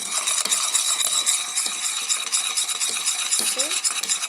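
A whisk scrapes and clinks rapidly in a pot of chocolate mixture for Brazilian carrot cake topping, quick irregular metallic strokes against a soft sizzling simmer, close and moderately quiet.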